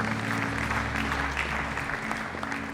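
An audience claps steadily for Chana, a dense wash of applause that holds for about three seconds, moderately loud, with a faint low hum underneath.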